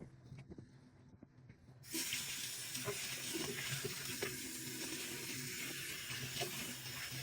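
Tap water runs steadily as a cleaning robot part is rinsed, starting suddenly after a quiet opening and continuing as a broad, close hiss with faint clatter.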